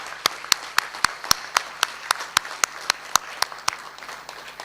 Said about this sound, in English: A big round of applause for our computer science graduates.